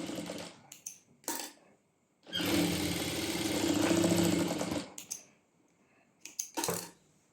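An electric sewing machine stitching fabric strips for pants, with short bursts of whirring at first, then a steady run of about two and a half seconds, followed by more short stitching bursts, close and fairly loud.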